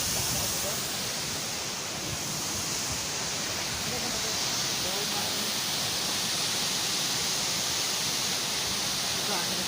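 The Jhojha waterfall roars as a loud, unbroken wash of falling water, close and dense, filling the whole scene with steady hiss.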